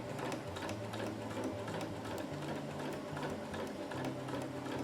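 A sewing machine runs steadily as it lock-stitches Hyper D ripstop fabric for an ultralight hammock, a close, continuous rapid mechanical chatter with no talking.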